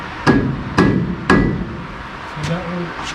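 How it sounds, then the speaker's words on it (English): Three evenly spaced sharp metallic hammer strikes on a screwdriver during a 4L80E transmission swap on a C-10 truck, close and loud, followed by a faint murmur of voice. "Maybe a hammer."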